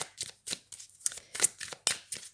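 Cards being shuffled for a tarot reading, a series of short papery riffles and flicks in an irregular rhythm, close and fairly quiet, with no talking.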